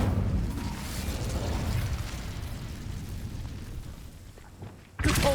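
Incendio fire spell cast in the video game Hogwarts Legacy, a loud sustained fiery burst with a low rumbling roar that fades over several seconds before a second sharp blast at the end.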